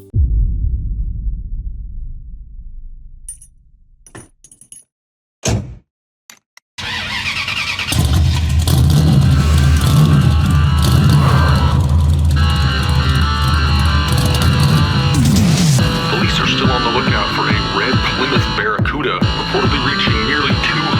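A 1971 Plymouth Barracuda starts up after a few sharp clicks and short bursts, then settles into a loud, throbbing engine roar that swells and rises in revs for over ten seconds.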